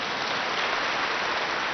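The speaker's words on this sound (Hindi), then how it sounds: "सारे बहादुर हैं तो अपने लिए ही ताली बजाओ, हम बहादुर हैं।" An indoor audience at a spiritual talk claps for themselves, a steady dense patter of many hands held at an even level for the whole moment with no voices over it.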